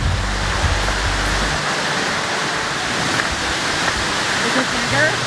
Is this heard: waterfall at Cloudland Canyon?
yes